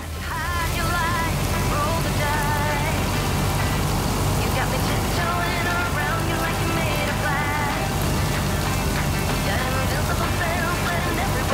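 Rain falls steadily on a lake, a dense broadband hiss that runs without pause under a boat motor's low rumble, with speech-like tones and chatter mixed throughout.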